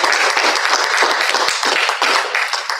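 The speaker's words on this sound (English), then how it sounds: "Big round of applause." Loud, close applause from a school audience at a principal's awards assembly, dense continuous clapping filling the whole moment without pause.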